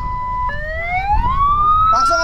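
A wailing ambulance siren sweeps upward in pitch over steady traffic rumble, loud and close, ending with a brief burst of sharper tones.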